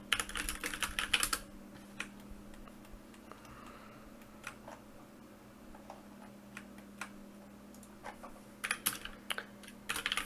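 Someone types quick bursts on a computer keyboard while naming model parts in Fluent software; clusters of crisp key clicks open and close the stretch, with sparse single taps between, no talking.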